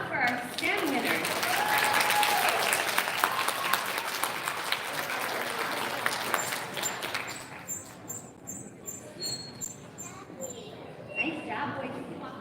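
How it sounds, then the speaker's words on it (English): A crowd at an elementary school recognition ceremony applauds the STEM winners, a sustained loud round of clapping that thins out into scattered claps while children's voices and talk carry on. "All right, big round of applause for our STEM winners."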